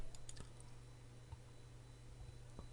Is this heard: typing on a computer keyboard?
yes